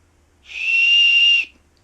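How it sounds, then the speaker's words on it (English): Whistle built into a Les Stroud SK Mountain Ultimate Survival knife gives a single steady, shrill blast of just under a second, loud and alone in a quiet room. "Pretty decent whistle."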